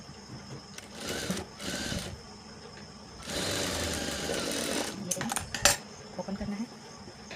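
Sewing machine stitching lining fabric onto a princess-cut blouse, heard in a few short bursts of running stitches, with a longer steady run in the middle and small clicks near the end.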